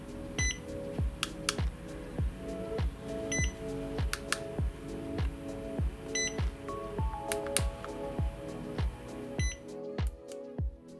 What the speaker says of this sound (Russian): обязательно проверяем все кнопки, чтобы срабатывали они сразу после щелчка, без дополнительных усилий.